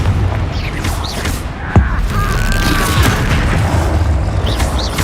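In Hogwarts Legacy, a Confringo fire spell explodes with a sharp booming blast amid dense, noisy combat effects, with whooshing magical tones and further impacts following under a continuous loud game soundscape.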